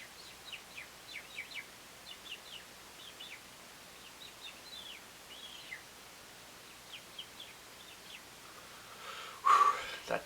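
Robins chirp in a steady series of short, high calls at moderate distance, fairly faint over a soft outdoor background, with a brief louder rustle near the end.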